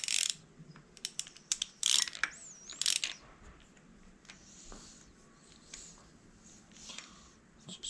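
Ratchet tightening cylinder head bolts during engine reassembly, bursts of sharp metallic clicks and clatter in the first few seconds, then quieter handling noises, close and fairly faint.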